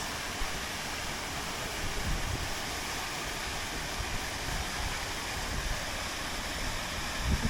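Water from a waterfall rushes in a steady, dense wash of noise that stays loud and even throughout, with no voices over it.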